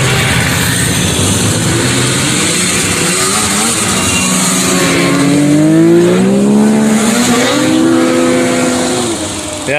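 Vintage snowmobiles rev their throttles as they pass at a snowmobile show in Newport Center, Vermont, with loud, close two-stroke engines rising and falling in pitch. Faint voices sit under the engine noise.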